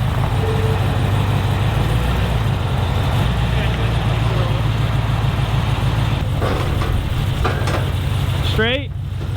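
A 1972 Chevy Blazer truck idles and backs up at close range, its engine a steady low rumble throughout, while people talk nearby.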